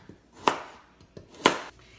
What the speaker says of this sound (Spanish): A las calabazas les voy a quitar las 2 orillas y las voy a cortar en diagonal